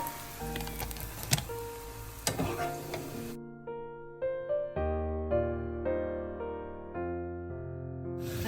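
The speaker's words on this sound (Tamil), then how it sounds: "இதே மாதிரி மிச்சமாக உள்ள கத்திரிக்காயை பொறித்து எடுத்துட்டு காட்டுறேன்" Brinjal (eggplant) pieces fry in hot oil with a crackling, bubbling sizzle for about three seconds, then the sound cuts off abruptly and melodic music takes over.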